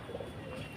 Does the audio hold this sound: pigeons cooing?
yes